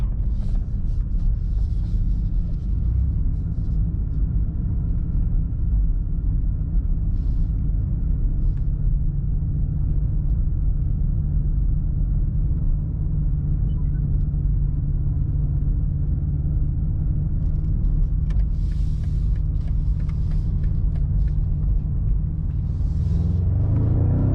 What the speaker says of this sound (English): This was like a nice amount of the throttle, but not the kick down, and here in Dynamic Plus picks up